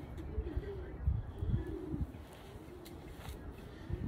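Racing pigeon cooing softly in a quiet room, several low rounded coos spaced a few seconds apart with faint handling noise in between.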